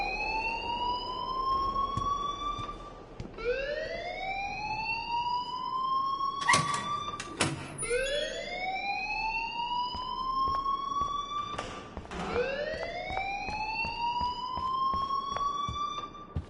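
A wailing school alarm in the Life is Strange video game repeats in long rising sweeps, loud and insistent, with a couple of sharp clanks cutting in between cycles and no one speaking.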